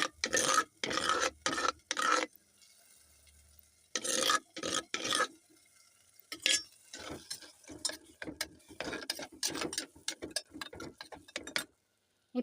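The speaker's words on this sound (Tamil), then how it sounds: "சுட்ட கத்திரிக்காயை கடைஞ்சி இதில் போட்டுடலாம்" Mashed roasted eggplant scraped and stirred into a pan with tomato and onion, giving bursts of rough scraping and rubbing from a spoon against the pan, close and moderately loud with short quiet gaps.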